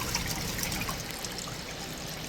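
Water trickling down into an aerated tank, a steady soft splashing and bubbling wash that stays fairly faint and even throughout with no voices.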